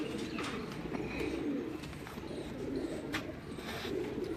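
Pigeons coo steadily on the rooftop loft of a pigeon-keeper's house, several birds overlapping in low rolling calls that continue throughout, with faint chirps above and no voices.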